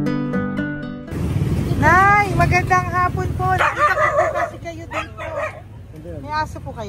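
A dog barks, yips and whimpers close by in several excited bursts, mixed with people talking.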